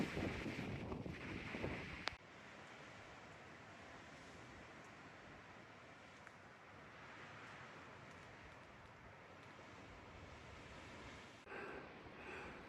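Wind gusting over a hiking spot on the Appalachian Trail in the Grayson Highlands, a steady broadband rush with buffeting on the microphone, stronger bursts at the start and near the end.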